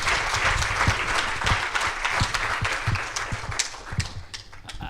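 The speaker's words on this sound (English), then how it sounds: "Can we honor him with a round of applause, please?" A conference audience at an opening session gives a round of applause, steady dense clapping with a few sharper individual claps standing out, fairly close and continuous for several seconds.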